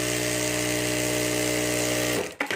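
A sewing machine stitches the side of a handmade Banjara bag, its motor giving a steady, close whirring hum that stops abruptly near the end, followed by a couple of faint handling sounds.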